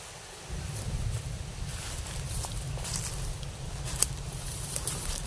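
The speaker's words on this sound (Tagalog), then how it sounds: "Ang grabe yung hangin pa rin eh." Strong wind blowing outdoors makes a steady low roar and rustle, with leaves and debris stirring and a couple of brief sharp ticks, continuous and fairly loud throughout.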